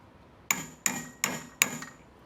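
A hammer strikes metal four times in a steady rhythm during a tie rod end change, each blow sharp and ringing close by with a short decay.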